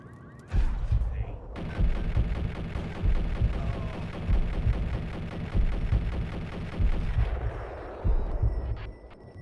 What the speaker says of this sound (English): there goes BB with his super shotgun